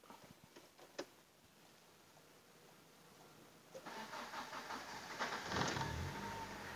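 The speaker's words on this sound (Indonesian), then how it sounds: "kita coba untuk menstarter mobil ini dan kita akan mereview dapur pacu ataupun mesinnya" A Maestro 4WS car's engine is cranked and starts, with a few clicks first, then a rising mid-pitched engine that settles into a steady rough idle, heard close with no talk.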